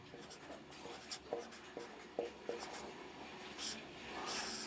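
Pen writing on paper while a math problem is worked out, a run of soft scratchy strokes with small taps, close and quiet, no talking.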